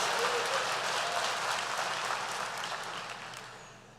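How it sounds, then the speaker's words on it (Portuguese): A church congregation applauds during a sermon, a dense wash of clapping that stays loud and then gradually fades out. "Dá uma salva de palmas ao Senhor"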